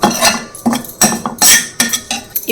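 A metal spoon scrapes roasted coconut from a vessel into a bowl in quick, loud strokes, with sharp clinks between them.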